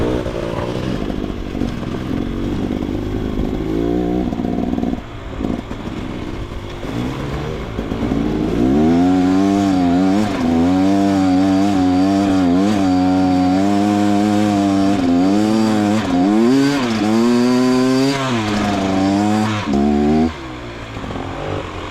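A GasGas EX250 dirt bike engine on a first ride runs loud and close, climbing in pitch and dropping back through repeated revving cycles while in third gear, with a steady buzzing drone underneath.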